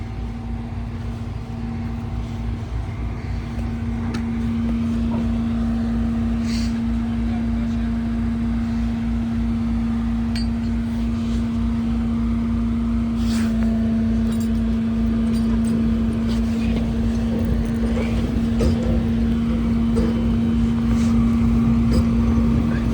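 A vehicle towing a shipping container with winch and chain gives off a steady engine drone with a strong low hum, overlaid by scattered clanks and metallic rattles of chain, with faint voices in the background throughout.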